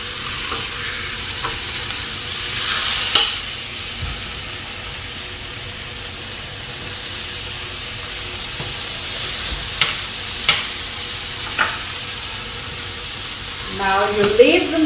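A thick piece of meat searing in a very hot pan with a drizzle of cooking oil, giving a steady close hiss with occasional spits and pops and a brief clatter near the end.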